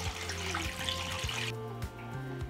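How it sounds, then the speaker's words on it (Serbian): Warm water poured into a large cooking pot holding a cloth and glass jars set up for pasteurizing, a steady gushing pour that cuts off about halfway, followed by quieter trickling and settling. "i nalit ću toplu vodu do vrha poklopca."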